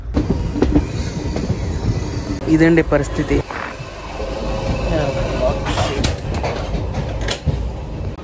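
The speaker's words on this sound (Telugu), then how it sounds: "వెంటనే మన ట్రైన్ అయితే స్టార్ట్ అయిపోయింది నిడదోలు జంక్షన్ నుండి" The Puri-Tirupati Express rolls on after leaving Nidadavolu junction: a steady rumble and clatter of wheels on rails, with brief squeals and metallic clanks, heard from inside the carriage while someone speaks briefly.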